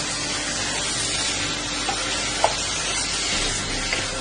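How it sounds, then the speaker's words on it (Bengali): Steady broadband sizzling of green chilies frying in hot oil in a spicy duck curry, continuous and close, with a couple of faint clinks partway through. "তেলের মধ্যে ভাজা হচ্ছে"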